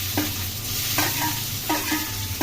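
Tomatoes and green chillies sautéing with onions in a pan for a plantain thokku, a steady sizzle under repeated scraping stirs of a spoon against the pan, close and alone.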